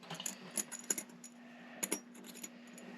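Metal keys jangle and clink in short bursts during master keying of deadbolts, with bright, close clicks clustered at the start and again near the middle.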